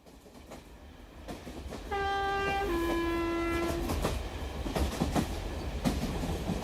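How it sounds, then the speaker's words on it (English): A train rumbles along with clattering wheels, then a two-tone horn sounds twice in succession before the rolling rattle continues. "A train journey."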